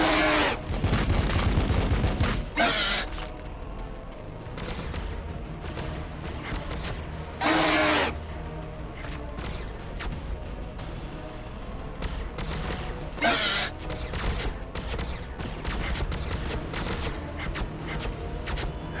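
Gunfire in Battlesector, the Warhammer 40,000 strategy game, with repeated loud volleys and bursts separated by stretches of sporadic crackling shots, with no talk.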